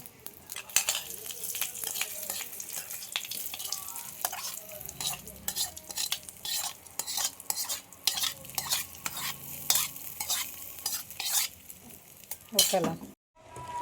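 Cucumber curry stirred in a pan while mustard seeds and curry leaves fry, with repeated scraping stirs and clinks of a spoon over a soft sizzle, close by, then a brief pause near the end.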